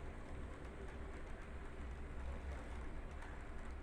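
A model railway wagon rolls along the track of a layout, giving a steady, quiet rumbling hiss that runs unbroken throughout without any voices.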